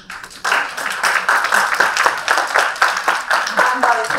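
Audience clapping in quick, steady applause at a Teach For Armenia gathering, close and loud, with a short quiet lead-in before the applause starts.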